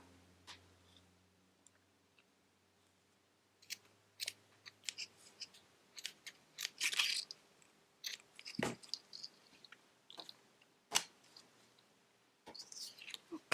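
Scissors snip through a paper tag for a Valentine craft, a series of close, crisp cuts in irregular bursts after a quiet start, with faint handling noises between them.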